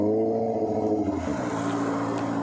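A Kawasaki ZX25R fitted with an SC Project exhaust revs hard close by, its loud, raspy four-cylinder note climbing and dropping through quick throttle blips.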